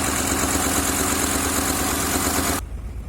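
A 2003 Honda Accord V6 engine idles roughly with a low, steady rumbling throb, close by, misfiring cylinders, then the sound drops off sharply near the end.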